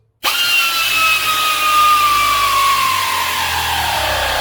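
Power tool tightening Magnaflow exhaust bolts on a 1996 Camaro RS, starting abruptly with a loud, close whine that holds steady and slowly drops in pitch for several seconds.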